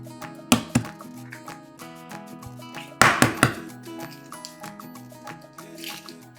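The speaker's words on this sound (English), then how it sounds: "Now we're ready to mix all of these ingredients." Ground meat and ingredients for bacon-wrapped embutido being mixed together by hand, wet squishy slaps and clumps in irregular bursts over a background of soft instrumental music, no talking.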